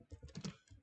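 A few quick keystrokes on a computer keyboard, soft close clicks in a short burst while code is written on an OpenBSD system.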